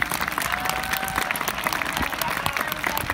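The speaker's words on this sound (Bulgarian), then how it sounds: "Аплодисменти за Светлана Търнева с Кобила Аида" A crowd claps steadily for the winning rider and her mare at a mounted police horse competition during a village festival, the applause mid-distance and even, with a faint tonal whine drifting through the background.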